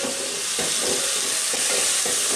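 Onion sizzles steadily in a hot oiled pan for a ridge gourd curry, a loud continuous frying hiss broken by rhythmic stirring scrapes roughly every half second.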